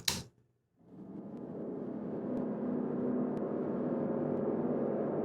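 A short sharp sound-design hit, then a brief silence before a broad, diffuse wash of plugin reverb swells up and sustains, like an echoing subway station.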